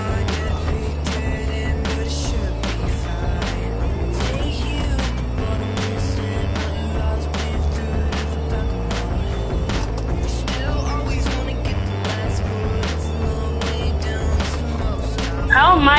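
A car driving in a video game, a continuous engine drone with shifting pitch and scattered sharp knocks and clicks, heard close and loud, with a voice talking over it at times.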